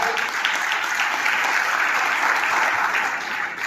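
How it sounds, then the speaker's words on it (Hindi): A church congregation at a Sunday sermon breaks into loud, sustained applause, a thick continuous roar of clapping that holds steady and eases slightly at the end. "इब्राहिम के लिए जोरदार तालियां बजाइए"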